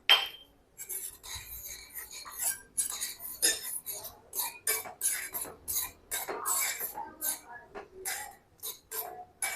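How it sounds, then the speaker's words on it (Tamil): Cashews and raisins frying in hot ghee in a pan for sweet pongal, giving a continuous sizzle with scattered clinks and scrapes of a metal spoon against the pan throughout. "போட்டு நல்லா வறுத்துக்கிடுவாங்க முந்திரி பருப்பு நல்லா வறுத்தாச்சுங்க"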